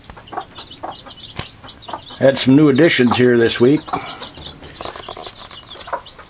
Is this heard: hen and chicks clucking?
yes